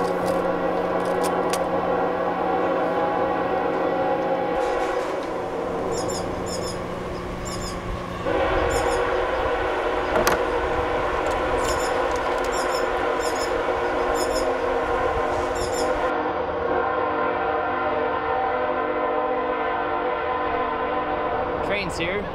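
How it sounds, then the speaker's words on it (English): A train rumbles steadily nearby, wheels clattering on rails, with a loud horn sounding partway through before the noise continues. "Train's here."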